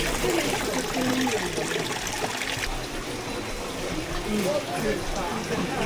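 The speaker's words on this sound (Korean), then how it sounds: "가이드님이 아까 설명해 주셨는데 후지산에서 흘러나오는 물이래요" Spring water from Mount Fuji flowing and trickling steadily at a tourist stop, a continuous close splashing wash heard throughout.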